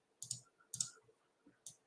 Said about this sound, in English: I love this new keyboard that I have from Razer.